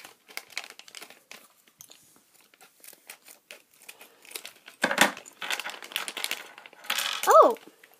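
The crinkly foil bag of a Lego Minifigures Series 12 blind pack is torn open close up. Intermittent crackling rustles build into louder tearing crinkles toward the end, with a brief squeak-like sound.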